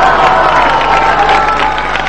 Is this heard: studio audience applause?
yes